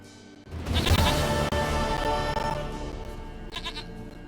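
A goat in The Witcher 3 gives one long, loud, wavering bleat close by that lasts about three seconds, with a shorter bleat following.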